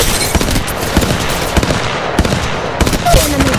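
Bursts of automatic weapon fire in Apex Legends Mobile, loud and close, with sharp evenly spaced shots popping through a constant battle din and brief game effects near the end.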